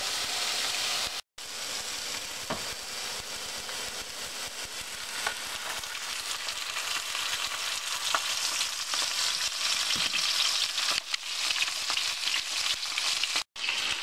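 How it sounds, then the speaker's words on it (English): Oxtail pieces frying in hot oil in a preheated pan, a loud, steady close sizzle and crackle with a few brief cutoffs, no voices. "take the oxtail, plop them in, and then we're going to put the oil in on top of that"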